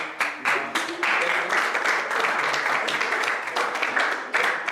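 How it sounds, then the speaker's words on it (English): A small audience at a scholars' history session claps for a guest, a fairly close, uneven run of hand claps with slight dips, no speech over it. "So round of applause for Declan"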